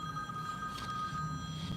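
A telephone rings steadily in a lecture room during a religious studies class, its tone faint and continuous beneath the room's background hum for the whole stretch, with no talk over it.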